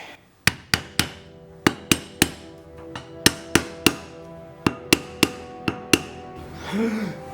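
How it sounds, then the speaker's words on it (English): A hammer taps a carved ebony grip onto a sword in a series of sharp, ringing taps, about a dozen blows at uneven intervals, each leaving a brief metallic ring, close and loud. "I think if I tap it on with a hammer, we'll get there."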